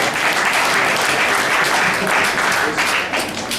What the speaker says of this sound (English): One more nice round of applause for Fabrizio Baldassari